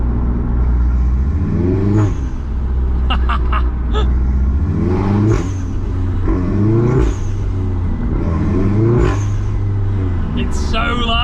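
A Volkswagen Golf R with DIY engine modifications and a loud dump valve revs hard in a fourth-gear pull from 30 mph. The loud engine drone climbs steadily in pitch, with hissing and whooshing bursts above it and some talk underneath.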